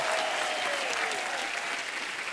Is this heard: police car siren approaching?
no